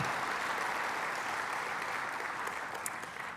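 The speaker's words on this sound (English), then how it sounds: "Can we give Tim Scott a big round of applause?" Audience applause at a South Carolina opportunity zone summit, a steady wash of many hands clapping in a large hall, fairly distant and sustained before tapering slightly.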